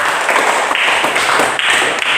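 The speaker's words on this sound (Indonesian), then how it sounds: "Tepuk tangan untuk Desi dulu" A classroom claps briefly for a student, a short, dense patter of hands that stays steady and fairly close for a couple of seconds.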